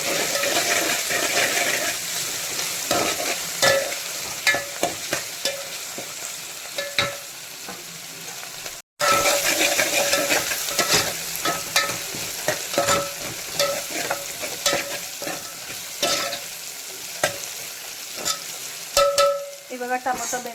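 Tomatoes cooking down in a pan for chicken fry, with a continuous loud sizzle broken by frequent sharp scrapes and knocks from a stirring spoon and a brief cut midway.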